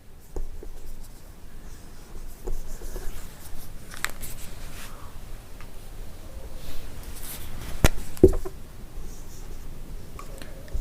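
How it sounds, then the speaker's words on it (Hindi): A pen scratches across paper while writing out an arithmetic progression maths problem, with soft intermittent strokes and taps, close and quiet, with no talk. "आइए क्वेश्चन लिखते हैं।"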